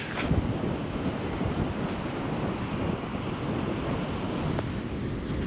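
Gusty wind buffets the microphone over a broad surf-like rush, continuous and fairly close, with no talking.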